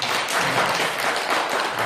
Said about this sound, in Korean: 이럴 때 박수 한번 주셔도